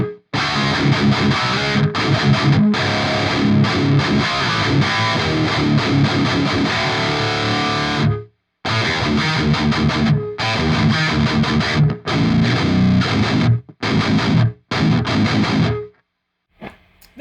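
An electric guitar runs through a high-gain amp into a 4x12 cabinet, with loud, heavily distorted chugging riffs broken by short stops and gaps, ending in a few choppy bursts.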